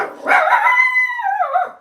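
A dog gives one long, drawn-out bark that slides into a howling whine, loud and close, with silence around it.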